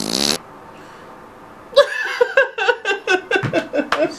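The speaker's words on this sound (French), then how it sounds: "Et si péter rendait dépressif?" A short, loud, buzzing fart opens a French comedy sketch, followed by a pause and then a run of rhythmic giggles and chuckling laughter.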